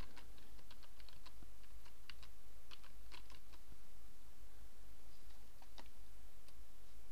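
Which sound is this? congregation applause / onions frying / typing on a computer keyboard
typing on a computer keyboard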